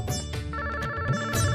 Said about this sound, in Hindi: अगर आप फोन नहीं उठाओगे तो भी फोन तो बजेगा ही ना